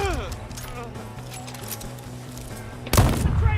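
A single loud, booming gunshot from the video game Deathloop bursts out near the end, following a stretch of steady in-game music and ambience.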